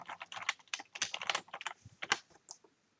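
Quick typing on a computer keyboard, a close, irregular burst of key clicks lasting a few seconds before tapering off.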